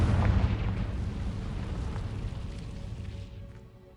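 A Confringo blasting spell in the wizarding game Hogwarts Legacy detonates as a deep, rumbling explosion that starts loud and booming, then rolls off into a fading roar over a few seconds.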